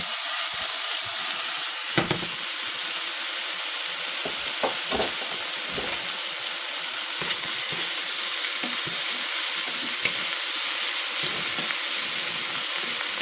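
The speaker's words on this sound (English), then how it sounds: "we'll put our bacon in now. We don't want too much heat. We just want this to cook quick." Bacon fries in a pan on modest heat, giving a steady hiss and fine crackle throughout, with occasional sharper pops and scrapes from moving it around, close and continuous with no speech.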